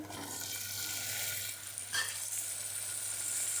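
Tomatoes dropped into a pan of golden fried onions and turmeric, giving a steady close sizzle with a brief louder burst as they land, then continued frying hiss.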